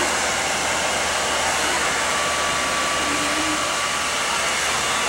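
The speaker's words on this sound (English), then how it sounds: "You can just flip your head from side to side and lay the diffuser in the hair." A hair dryer fitted with a diffuser blows a loud, continuous, even whoosh close by while drying curly hair, with no breaks and no voices.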